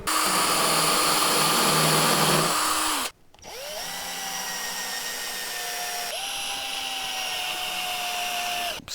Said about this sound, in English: I'm going to pre-drill these two side cheeks so that they're ready for assembly.